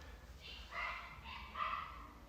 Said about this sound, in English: Excuse my barking chihuahuas.